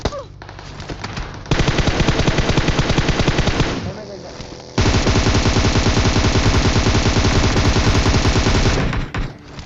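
Dense automatic gunfire from the mobile game PUBG Mobile rattles in two long sustained bursts, loud and close, with a short lull between them and a few scattered shots at the start.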